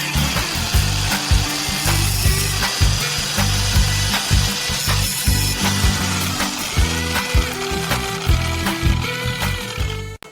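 An angle grinder disc grinds the teeth of a chainsaw chain, a loud continuous whine broken by rapid repeated rasping strokes as each tooth is touched, running steadily close by and cutting off at the end.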